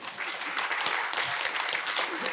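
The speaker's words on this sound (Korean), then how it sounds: "자, 박수 한 번!" An audience at a public-sector training contest claps briskly, a dense, even burst of applause filling the room at moderate volume.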